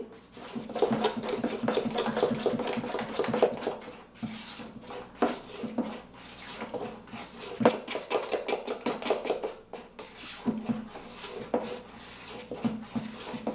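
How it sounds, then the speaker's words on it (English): Gluten-free pancake batter being stirred in a bowl until smooth, rapid rhythmic scraping and tapping of the utensil in close bursts, pausing briefly then resuming, with no talking. "Just going to stir it up until it gets smooth and even."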